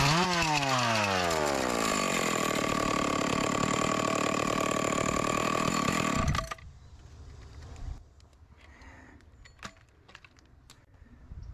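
An old 020 chainsaw clearing downed tree branches revs loudly with a rising, resonant whine for about six seconds, then cuts out abruptly, leaving quiet outdoor ambience with scattered small knocks and clicks.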